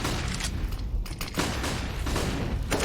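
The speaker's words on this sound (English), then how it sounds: "Flashbangs all over the place." Flashbang grenades in Counter-Strike: Global Offensive go off as dense, rapid bursts and bangs that merge with steady gunfire into a continuous, loud barrage.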